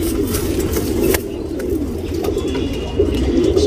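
Tournament pigeons coo in soft, repeated low throaty calls, close by and steady, with faint background noise and no talking.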